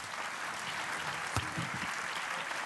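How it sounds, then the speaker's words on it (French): Audience applause at a French television debate, a steady wash of clapping from a studio crowd that holds evenly for the whole stretch, with no voices over it. "On vous applaudit bien fort."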